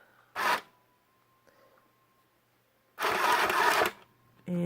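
Home sewing machine stitching a craft shade case, heard as two separate bursts of rapid mechanical whirring, one short and one longer, with a steady faint hum and quiet pauses between them.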